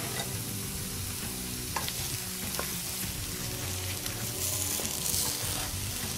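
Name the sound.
potatoes and peas being stirred and frying in a pan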